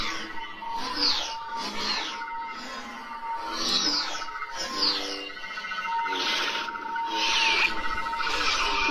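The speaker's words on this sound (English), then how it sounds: "it sounds like there's someone dueling with you holding the Darksaber" A Darksaber replica lightsaber plays its idle sound font, a sequence of electronic whooshing chirps and clashing swells repeating roughly every second, fairly loud and close.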